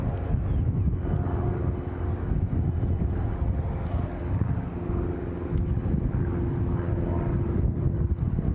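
A small light aircraft flies overhead near Edinburgh Airport, a steady low drone with a faint propeller hum that holds constant throughout, mixed with wind buffeting the microphone and no talk.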